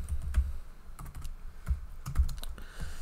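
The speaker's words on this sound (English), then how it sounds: "So now we're going to type in hyperlink" Close, clear typing on a computer keyboard, with rapid clustered keystrokes in an uneven rhythm over about three seconds and no speech.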